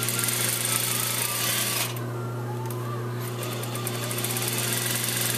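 A sewing machine runs steadily, stitching a seam in plaid fabric. The motor hum is close and fairly quiet, with a brief pause in the middle and no speech.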